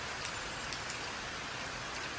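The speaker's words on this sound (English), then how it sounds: "I don't know how the audio is going to pick up the rain." Steady, dense rain pattering on a metal roof, a continuous hiss with scattered sharper drops, even and unbroken throughout.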